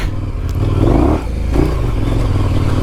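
Adventure motorcycle engine running loud and close while riding over hard-packed dirt and rocks, with a steady drone, a throttle rise, and some clatter from the terrain.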